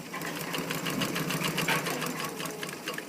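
A sewing machine stitching a zipper, its needle hammering in a fast, steady rhythm close by for the whole stretch, loud and unbroken.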